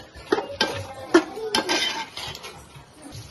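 A spoon stirs chicken curry in a pot, with a few sharp metallic clinks against the sides and soft scraping in between, close and fairly loud, with no one talking.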